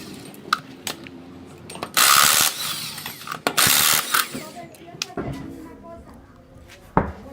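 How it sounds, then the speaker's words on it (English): A power tool or wrench whirs and ratchets loosening the six wheel lug nuts on a 2000 Toyota 4Runner Limited rim, with two loud bursts among clanks and clicks of tools in a garage. "We begin by taking off the 6 nuts on the rim to be able to remove the entire tire."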